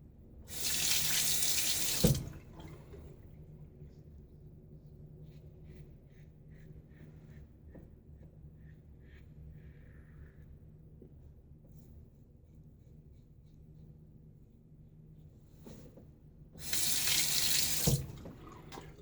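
A bathroom tap gushes loudly for about two seconds while a safety razor is rinsed mid-shave, then quiet stretches with faint scraping follow before the faucet runs again briefly near the end.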